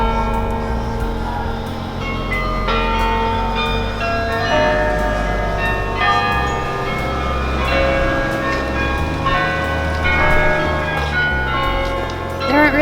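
Church bells ringing in Amsterdam, a dense, continuous peal of overlapping tolls sustained throughout at close, steady loudness with rich ringing overtones.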